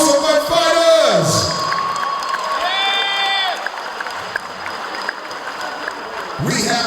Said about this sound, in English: Round of applause for my fighters!